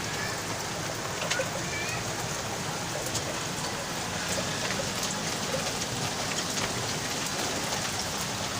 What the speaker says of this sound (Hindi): बारिश तेज